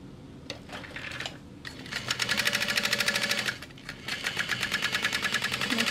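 A sewing machine bastes fabric down along the center of a large bag, with runs of rapid needle stitching stopping and starting several times, close and fairly loud with no talking.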